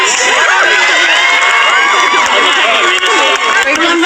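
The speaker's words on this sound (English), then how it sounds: "he decided he would speak, to the applause of some, booing of others" A dense crowd at a public meeting where a politician is speaking, with mixed applause, cheers and booing. The shouting and clapping are loud and continuous throughout, with many overlapping voices and no single speaker standing out.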